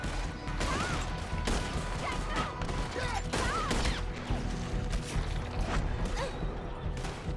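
A rifle gunfight in Red Dead Redemption 2 sounds as a dense, steady barrage of shots and crashing impacts, loud and continuous, with faint tonal game sounds mixed in.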